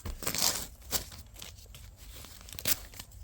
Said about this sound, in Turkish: Kocaman bir paket var. Açalım.